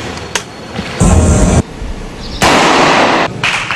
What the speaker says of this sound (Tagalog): Gamit ang modified grease gun.